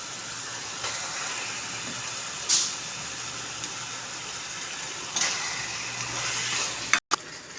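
Continuous hissing sizzle of chicken frying in a hot pan with cooked masala paste for chicken gravy, with a few louder bursts and clatters along the way.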